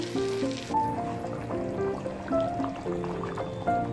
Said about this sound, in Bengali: এখন সামান্য একটু জল দিয়ে দেবো